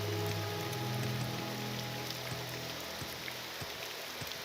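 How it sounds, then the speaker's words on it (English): Rain falls steadily in The Elder Scrolls III: Morrowind, an even continuous patter of drops forming a soft, constant wash with a low background hum and no talk. "I wish it would quit raining, but it rains all the time."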